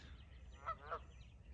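A couple of faint honks from geese at a distance, heard over a low outdoor rumble.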